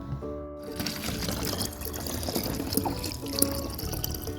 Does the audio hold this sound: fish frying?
no